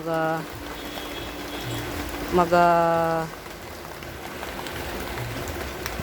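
Light rain falls steadily as a soft, constant hiss beneath a person talking, with the patter continuing through pauses in the speech.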